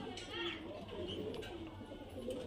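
Soft, repeated cooing from Giribaz highflyer pigeons, close and murmuring in short phrases, with someone talking over much of it.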